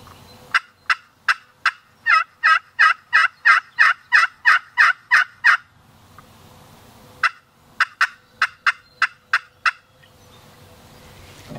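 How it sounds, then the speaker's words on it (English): A wild turkey gobbles in loud, rapid bursts of rattling calls during a spring hunt in New York, pausing briefly before another run of gobbles, with no talking. "There's a turkey."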